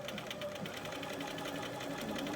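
A sewing machine stitching a quilt panel, running steadily with a fast even mechanical rhythm of needle strokes, close and continuous with no talk.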